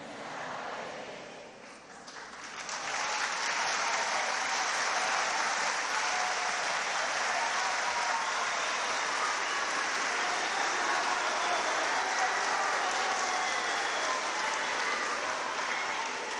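A large audience at a papal meeting with priests, seminarians and religious in Peru bursts into applause, building after a couple of seconds into loud, sustained clapping that holds steady throughout.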